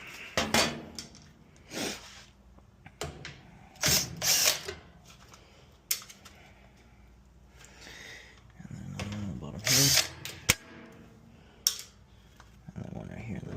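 A power drill backing out the screws on a Whirlpool control board, short whirring and ratcheting bursts separated by pauses, close up, with someone talking in between.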